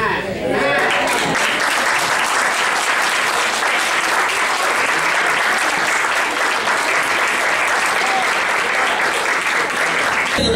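A church congregation at a Christian women's conference claps in praise, loud continuous hand clapping sustained throughout, with voices mixed in underneath.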